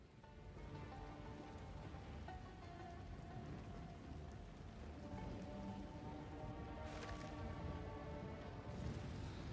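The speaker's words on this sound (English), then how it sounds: "Toxic rain." The Toxic Rain skill in the Path of Exile 2 video game, a quiet, steady hiss of falling droplets that thickens slightly toward the end, with no talking.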